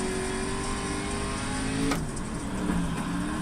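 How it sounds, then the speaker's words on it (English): A race car in the iRacing video game, driving with front wheel damage, holds a steady engine drone with harmonic whine and a brief gear-shift dip near the middle, continuous and close. "I'm racing a car with front wheel damage because I don't want to go in the pits"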